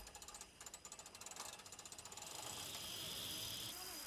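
A nut is tightened onto a throttle base, giving a fast run of small metallic clicks like a ratchet, close and faint, followed by a steadier whirring rasp.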